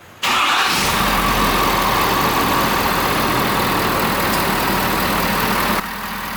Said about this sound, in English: you are gonna get the little throaty V8 chug, chug, chug noise. You hear that thing sucking in there.